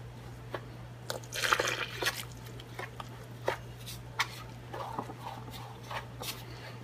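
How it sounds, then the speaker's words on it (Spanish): Warm water poured gradually into pupusa dough and worked by hand, giving soft wet squishes, drips and splashy slaps in short irregular bursts over a steady low hum, close and fairly quiet. "Vamos a ponerle el agua tibia, que ustedes la puedan manejar con su mano."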